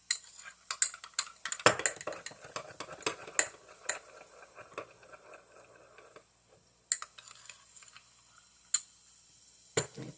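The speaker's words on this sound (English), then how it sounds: "now I can get back to mixing up the mixture I'm doing" Spoon clinking and scraping against a bowl while a salad dressing mixture is stirred, a run of quick irregular taps in the first half, then sparser clinks with quiet gaps between.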